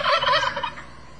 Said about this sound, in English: He no doubt awoke each morning to the crowing of roosters and the gobbling of turkeys.